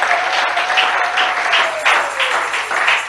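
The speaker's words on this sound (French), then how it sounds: "Est-ce qu'on peut acclamer pour le Seigneur?" Church congregation clapping and applauding for the Lord, a dense sustained burst of many hands with faint voices beneath, filling a large hall.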